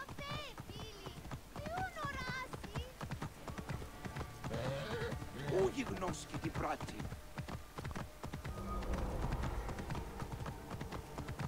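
Horse riding in the video game Assassin's Creed Origins: rhythmic clip-clop hooves with a whinny and game sounds, mixed under people talking.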